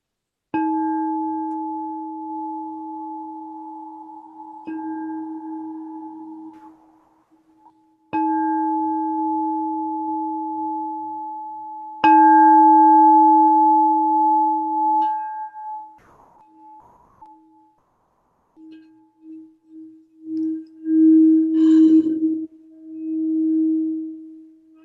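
A crystal singing bowl named Sir rings with a pure steady hum and a higher overtone, struck several times and sustained in long swells, then rubbed into pulsing, wavering tones near the end, alone and fairly close.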